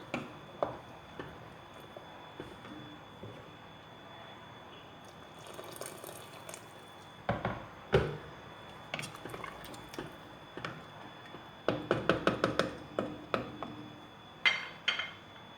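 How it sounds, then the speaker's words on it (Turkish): Hot water splashes into a pot of fresh borlotti beans in a kitchen, with scattered drips, trickles and clinks of metal cookware coming in short bursts, some louder near the end, and no speech. "Şöyle üzerine geçene kadar su koyuyorum."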